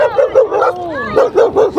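A dog barks and yips in quick bursts, close and loud, with a whining pitch rising between barks.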